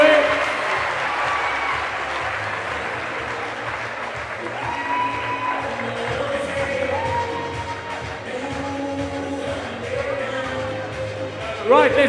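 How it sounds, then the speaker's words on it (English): Audience at an education conference applauding a winner with steady clapping and a few cheers and whoops, while voices talk over the crowd noise throughout. "let's give her a nice round of applause"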